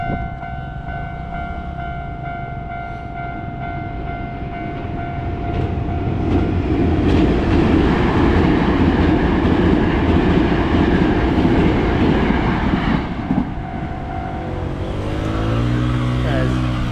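A train rumbles past nearby in Katsura, Kyoto, the roar building and holding steady for several seconds before easing, with a faint voice in the background.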